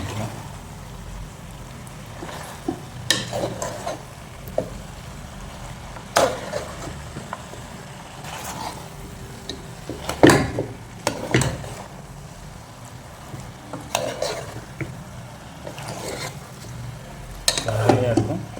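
A spoon stirs chicken 65 masala with broad beans in a pan, making intermittent metallic scrapes and clanks over a low background sizzle, close by, while a voice talks at times.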